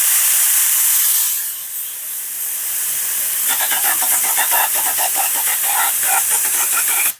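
A steady hiss of upholstery glue from a spray gun that turns sputtery halfway through, breaking into rapid uneven bursts as it spurts out, close and loud.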